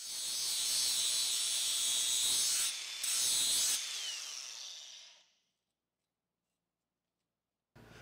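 A grinder sharpens the cutting sections of a hay mower's sickle bar with a loud, harsh, high-pitched grinding for several seconds, then cuts to silence before a brief burst of grinding returns.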